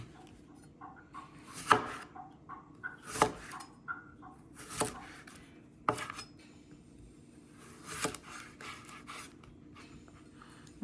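A kitchen knife slicing cucumber on a cutting board, a series of crisp, irregular chops and taps spaced a second or so apart, close and fairly quiet, with no talking.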